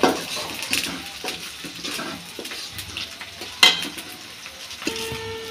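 Onions, garlic paste and spices fry in oil for lotiya fish, a close crackling sizzle broken by spoon scrapes and clanks against the pan, with one sharp clatter midway.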